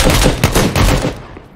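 Gunfire in the video game Project Delta comes as a loud, close burst of rapid shots packed together, then stops abruptly and leaves a short fading tail, with no talking.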